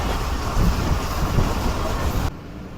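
Steady, loud rushing rumble of the Jaffer Express, a passenger train hauled by a Chinese locomotive running at speed toward Lahore, heard from inside with continuous broadband noise that drops slightly near the end.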